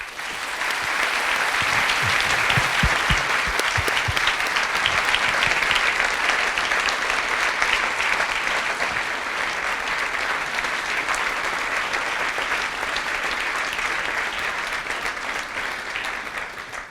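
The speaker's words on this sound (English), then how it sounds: "Long clap." Long, sustained audience applause after a public talk on nudge policy, a dense, even wash of many hands clapping that holds steady for about seventeen seconds and tapers slightly at the end, with no voices.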